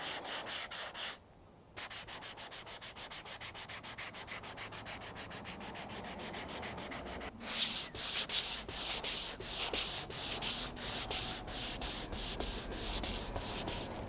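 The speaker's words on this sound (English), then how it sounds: "Not going to be pushing too hard because this is way easier to sand than the filler." A car roof with hail damage being sanded by hand with 180 grit sandpaper, a steady stream of close, rhythmic rasping strokes that grow louder and coarser in the second half.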